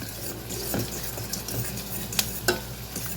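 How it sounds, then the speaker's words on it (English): Onions being stirred in a frying pan with a spoon or spatula, giving soft scraping strokes and a few sharper clinks over a steady low sizzle, close by with no talking. "I'm stirring these around."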